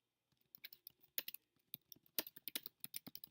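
Fingers typing on a computer keyboard while entering text in an Excel spreadsheet, a quick close run of irregular key clicks in short bursts with no voices.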